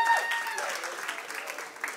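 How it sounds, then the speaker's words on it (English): Audience applause at a comedy show, a short burst of crowd clapping and cheering, fairly distant and settling down across two seconds. "I want you to give a clap for yourself for coming out this evening"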